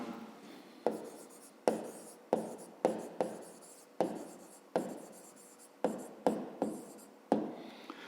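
A pen scratches across paper in short, quick strokes, about a dozen bursts with brief pauses between them, close and quiet, during a fifth-grade math exercise.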